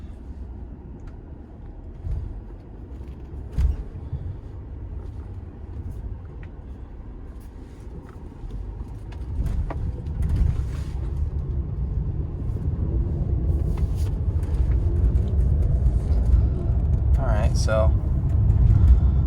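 Mercedes-AMG GLC 43 with an Eurocharged IG35 tune drives along, its low engine and road rumble swelling steadily from the cabin, with a few words spoken and a brief chime near the end.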